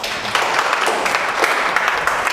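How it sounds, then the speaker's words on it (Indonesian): Audience applause at a seminar on effective communication, a steady dense patter of many hands clapping that holds evenly for a couple of seconds with no voices over it. "tepuk tangan dong"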